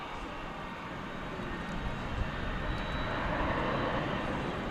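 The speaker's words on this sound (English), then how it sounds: "It's a 777-200, and it's about to take off over on the east side." An American Airlines Boeing 777-200 takes off at DFW Airport, a broad, distant jet roar that swells slightly over a few seconds with no talk.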